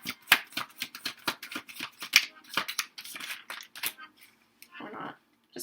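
Tarot cards being shuffled up close in a rapid run of crisp flicks and snaps, thinning out after a few seconds into a brief softer rustle.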